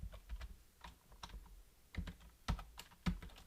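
Keys clatter on a computer keyboard during Minecraft Fabric mod coding, an irregular run of close, crisp taps with a few louder strikes, and no one speaking.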